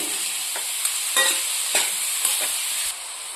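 Grated carrot cooks with sugar in a pan for catering-style carrot halwa with khoa over a medium flame. A constant sizzling hiss runs under several distinct scraping strokes from a stirring spoon, close and clear.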